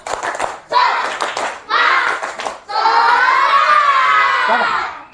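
Classroom of schoolchildren performing a rhythmic spirit clap, loud patterned bursts of clapping mixed with shouted chanting voices, then a sustained stretch of excited shouting from the whole group.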